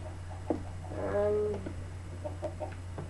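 Chickens cluck in a Minecraft chicken factory in the Xbox 360 edition, a short burst of clucking calls over a steady low hum, with a few soft clicks afterward.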